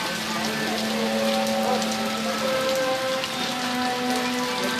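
Heavy rain pours steadily in Karachi on Mohammad Khan Road, a dense, continuous hiss of drops on the street and surfaces with no break, loud and close throughout.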